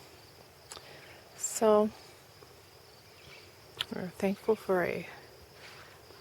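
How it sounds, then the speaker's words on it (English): Faint crickets chirp steadily in an orchard's outdoor ambience, with a few sharp bird calls cutting through now and then while a person speaks briefly. "the birds are chirping, crickets are humming"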